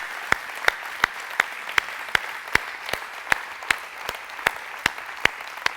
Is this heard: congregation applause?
yes